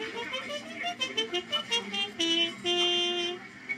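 Trumpet played with a practice mute, a short phrase of muffled, buzzy notes heard close and fairly quiet, ending on two longer held tones.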